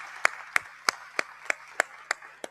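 Applause during a legislative session: a single set of evenly spaced hand claps, about eight in a slow, regular rhythm, clear and fairly close against a quiet room.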